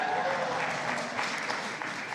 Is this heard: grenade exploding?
no